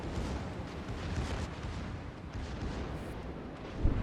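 Secondary guns firing during a naval battle video game, a dense rumbling barrage of overlapping low booms that stays loud throughout, with one sharper burst near the end.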